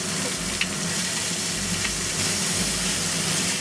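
A pork chop sears in a hot pan with a steady, close sizzle and crackle that keeps an even level throughout, with faint spits and pops on top and no talking.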